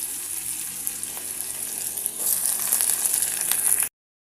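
Chopped onions tip into hot oil already crackling with tempering spices, the steady frying hiss growing louder and brighter halfway through before cutting off abruptly near the end.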